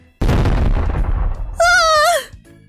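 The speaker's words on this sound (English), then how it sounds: "Suddenly, we all heard a loud explosion from the kitchen area." A loud explosion bursts from a restaurant kitchen, a sudden close blast whose rumble decays over about a second before a voice cries out in surprise.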